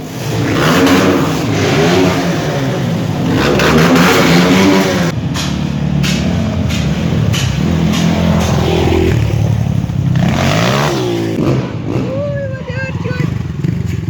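A motorcycle engine revs loudly and nearby, rising and falling in pitch, with people talking over the noise, in an abandoned town.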